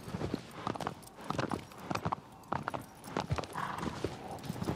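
Horse hooves clip-clop steadily in Shadow of the Colossus, a continuous run of close, rhythmic thuds over a noisy wash of wind and ground sound.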